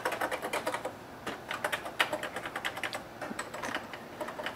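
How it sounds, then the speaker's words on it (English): Typing on the fully mechanical keyboard of an Atari 800 computer: a steady, brisk run of close key clacks with brief pauses, moderately quiet and without voices. "There's a fully mechanical keyboard on these."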